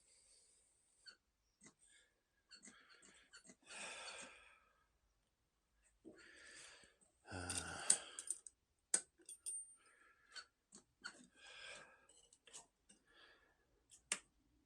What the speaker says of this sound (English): when I'm turning the kill switch, there's definitely power going through to the back, so I can hear it clicking